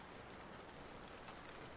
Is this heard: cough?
no